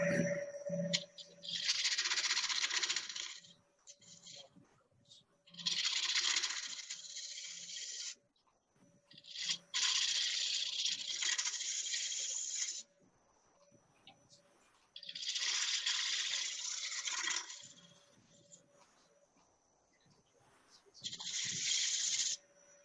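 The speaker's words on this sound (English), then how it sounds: "why don't we go with a scraper? Get rid of all the super glue that I put on top." A scraper rasping super glue off a surface, several long harsh scraping strokes of a few seconds each, separated by quiet gaps, close and fairly loud against a faint steady hum.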